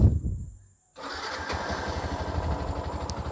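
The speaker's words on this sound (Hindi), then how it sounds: "बाइक को करते कॉल स्टार्ट।" A motorbike engine is started after a brief silence, then settles into a steady close, rhythmic idling putter.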